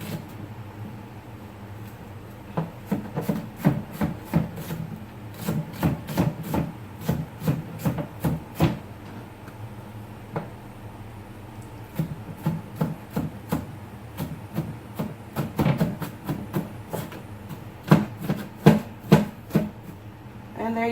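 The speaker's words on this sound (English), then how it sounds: "Chopping an onion couldn't be easier, right?" An onion is chopped with a knife on a board, a quick series of crisp, close cuts coming in bursts with short pauses between them.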